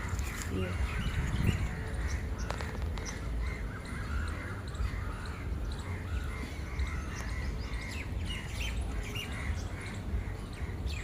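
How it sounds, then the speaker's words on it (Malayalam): Birds call outdoors near a flowering tree, crows cawing among scattered chirps and squawks, moderately distant over steady background noise throughout. "ഇവിടെ നല്ല ബേർഡ്സിൻ്റെ സൗണ്ടൊക്കെ കേൾക്കാം."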